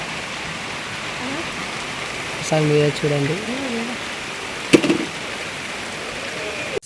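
Steady rain hiss fills the background throughout, with a person speaking briefly over it partway through.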